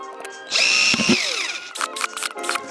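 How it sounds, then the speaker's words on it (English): A power drill bores holes into the bottom of a plastic bottle. The motor whines loudly and steadily, then comes a brief pause and a few short stuttering bursts, with no voices. "Start off, drill holes in the bottom."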